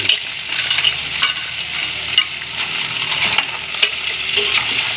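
Crabs fry in a pan while being stirred, a steady close sizzle with occasional scraping and clacking of shells and utensil against the pan.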